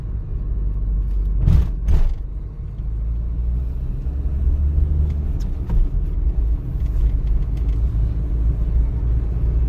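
A car with a manual gearbox driving along a city street in third gear at about 35 km/h, giving a steady low engine and road rumble with a couple of louder thumps early on.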